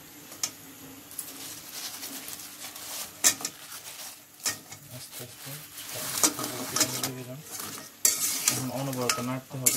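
Pitha is stirred in bubbling melted sugar in a pan, with a soft sizzle throughout and scraping utensil knocks against the pan that grow busier toward the end.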